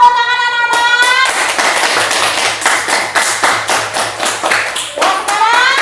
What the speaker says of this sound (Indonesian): Beri tepuk tangan anak-anak.